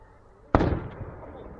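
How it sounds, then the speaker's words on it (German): A single sharp fireworks bang at a town fair, sudden and loud after a low murmur of background noise, followed by a short rumbling decay. "Und jetzt kommt der Knall."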